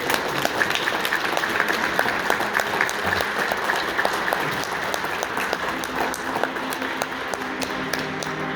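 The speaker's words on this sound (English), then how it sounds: "Thank you for your attention and your applause" Audience applause rings out in the historic Redford Theatre, a steady crowd of clapping hands with some sharper individual claps standing out, close and lively throughout.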